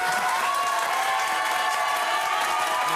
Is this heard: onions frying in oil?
no